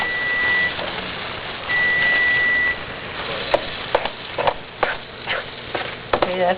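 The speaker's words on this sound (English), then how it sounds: "The beeper's going off." A kitchen timer beeper sounds two long steady tones while an oyster dressing is being made, followed by clattering and stirring noises from the kitchen.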